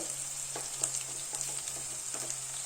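Shallots and garlic frying in oil in a pan, a quiet steady sizzle broken by soft scrapes and stirring taps.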